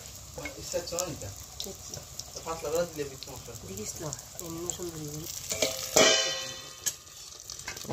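Taro fritters (kochu bora) in gram flour batter fry with a steady sizzle beneath talking, and a sharp clatter near the end as they are turned in the pan.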